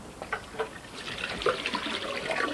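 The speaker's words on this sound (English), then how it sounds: "Just rinse my hands." Water running from a tap while hands are rinsed under it, a splashing, uneven flow with small spatters, close and moderately loud, no voices.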